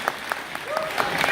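Light, scattered clapping from an audience at a children's stage performance at a Toronto community festival, a few separate claps at a moderate distance under a speaking voice.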